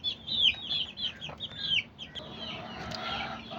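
A mother hen with chicks clucks softly up close, mixed with a run of high, rhythmic peeping chirps over a faint background, with no talking.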